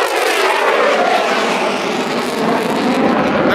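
A military aircraft roars overhead during a parade in Thessaloniki, a loud, steady broadband engine rush that fills the whole stretch without any talk.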